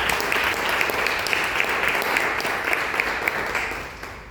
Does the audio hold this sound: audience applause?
yes